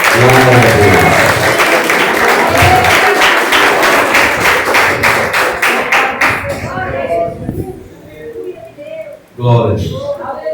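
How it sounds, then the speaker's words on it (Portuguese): A church congregation claps in praise to God, fast rhythmic palms ringing out loudly for about seven seconds before fading, after which a preacher speaks over a quieter room. "Podeis aceitar e louvar a Deus com as palmas, igreja."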